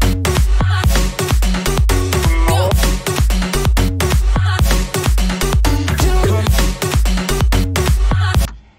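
An electronic music drop hits loud and dense, a lead synth riding over punchy kick and snare drums with sidechain pumping and reverb, continuous and powerful until a short fade at the end.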